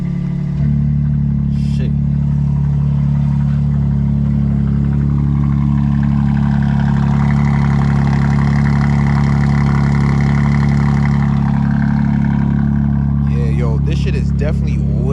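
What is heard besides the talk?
BMW M2 exhaust with catless downpipe, revving then idling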